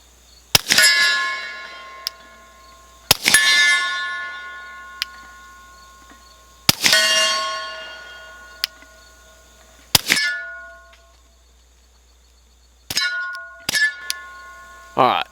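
A suppressed Lipsey's Retro Glock P80 fires at steel targets 50 yards away, each muffled shot followed by a bright ringing clang that fades slowly. There are about six hits, spaced out, then a quicker pair near the end, with brief faint talk.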